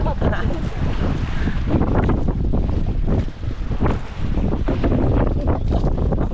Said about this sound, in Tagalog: Oh, grabe hangin talaga.